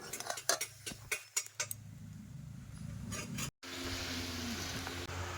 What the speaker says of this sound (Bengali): কুলপি শাক আলু দিয়ে কেটে আবার ভাজা করলাম